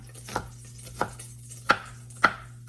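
A knife chops garlic cloves on a board: four sharp, close knocks spaced roughly half a second apart over a steady low background hum, with no talking.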